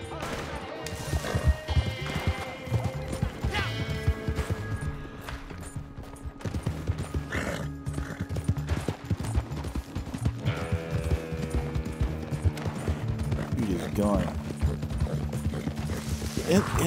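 A horse gallops in the video game Red Dead, rapid rhythmic hoofbeats running throughout amid game noise, gunfire-like cracks and a neigh, with a voice talking over it.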